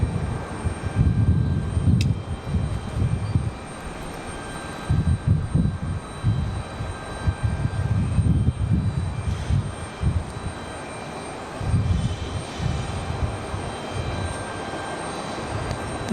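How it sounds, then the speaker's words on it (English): An American Airlines airliner arriving from Dallas Fort Worth at Raleigh Durham International Airport makes a loud, continuous engine roar with rumbling pulses and a steady whine, heard alone from a plane spotting spot. "This is American Airlines coming in from Dallas, Fort Worth."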